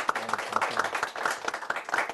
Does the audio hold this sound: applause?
yes